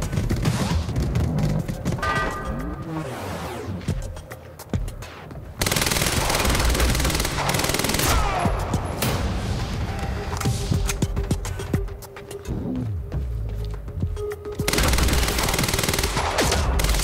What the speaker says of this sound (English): these advanced SMGs are the best